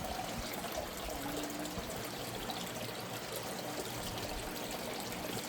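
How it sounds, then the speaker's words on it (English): Water trickling steadily outdoors near a garden bed with grass and flowers, a faint, continuous babble with no pauses and no talking. "There's the water."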